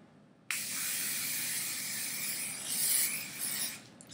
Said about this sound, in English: I've got my trusty hairspray